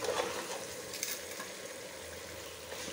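Beef curry with potatoes sizzles steadily in hot oil in a pan, with occasional soft stirring scrapes and no voices.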